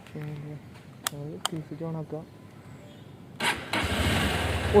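A Honda Hornet 2.0 BS6 motorcycle starts with a short cranking burst after people talk, then settles into a steady close idle.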